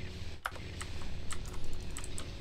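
Computer keyboard keys pressed while playing Lego Star Wars The Complete Saga: several quick, light clicks scattered over a steady game soundtrack bed, with one sharper tap near the start.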